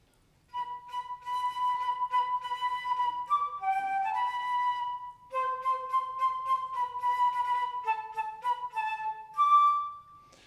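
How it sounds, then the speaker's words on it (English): A concert flute plays a slow, clear melody of sustained breathy notes, fairly soft and solo, with brief pauses between phrases. "we have the flute. So, played by blowing over a hole."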